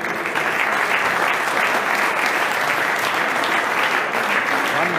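Crowd applause at a WABV amateur boxing championship in 2016 as boxers are introduced, dense steady clapping that fills the hall from start to end with no pause.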